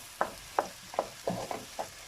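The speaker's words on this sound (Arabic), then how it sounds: "ونميلونجيو مزيان" Paella rice with tomato is stirred in a pan, giving six distinct scraping strokes at an unhurried, fairly regular pace, close up, with a faint sizzle underneath and no talk.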